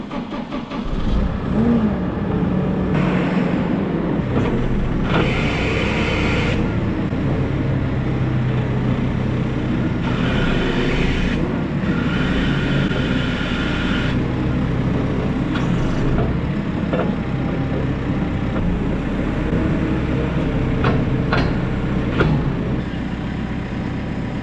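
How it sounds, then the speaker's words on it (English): Steady engine drone from a flatbed truck hauling a forklift on the road to pick up steel, a continuous mid-pitched rumble with road noise throughout, close and loud, with no talking. "Flatbed and forklift just heading out to fabricators to pick up some steel."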